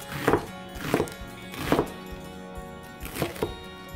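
A knife chops an onion on a cutting board in five or six distinct, evenly spaced thuds, close and clear, with no talk over them.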